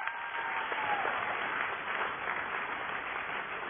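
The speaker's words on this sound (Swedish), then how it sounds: "Jag tycker vi ger dem ytterligare en stor varm applåd." An audience applauds the teachers' band at a school Christmas show, steady broadband clapping filling the whole stretch at a moderate, even level with no voices on top.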